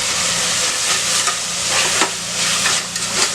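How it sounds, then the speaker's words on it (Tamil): Spices and onions sizzle and fry in a pan for a village-style goat head fry, a steady close hiss with faint stirring scrapes throughout and no voices. "இது எல்லாமே ஒன்றா சேர்த்து நல்லா வணக்கிக்குவோம்."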